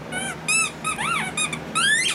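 A dog's squeaky toy squeaked in four separate bursts, each a sharp rising-and-falling whine, with two closer together in the middle and a longer final squeal, loud and near with no talking.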